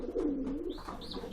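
Sport racing pigeons coo in a loft, one clear close coo followed by softer rustling and faint chirps, quiet and without talk.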